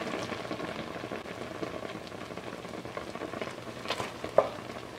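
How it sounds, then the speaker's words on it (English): Apples simmering on low heat in a pot for apple butter, a faint continuous bubbling sizzle with small pops and one brief clink, no voices. "just let this simmer for about 25 to 30 minutes and until mostly all the liquid is gone."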